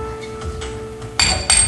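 A hammer strikes a chisel twice near the end, sharp ringing metallic hits after a quiet stretch with a faint tone.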